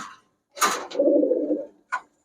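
A Pakistani highflyer Giribaz pigeon gives one rolling, drawn-out coo close by, set between short rustling bursts.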